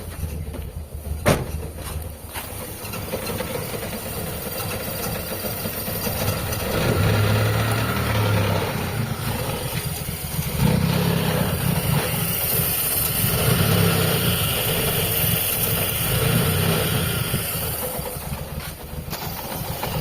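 A Mitsubishi Lancer car engine with a carburettor and a clogged vacuum port idles steadily nearby with an uneven, motorcycle-like rattling rumble, a few small clicks and slight swells in loudness.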